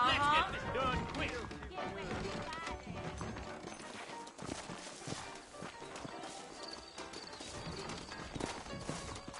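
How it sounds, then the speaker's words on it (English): Horses clip-clop and whinny in the Red Dead Redemption western video game, steady hoofbeats mixed under a busy layer of game music, ambience and speaking voices. "I got the horses saddled up and ready out front."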